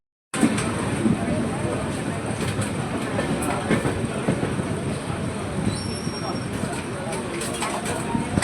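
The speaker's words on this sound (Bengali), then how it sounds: "এই মাত্র পুরী স্টেশনে আমাদের ট্রেন থামলো" Howrah–Puri superfast express train pulling into Puri station, with a steady rumbling wheel-and-carriage roar throughout and faint squeals, under a busy platform background with voices.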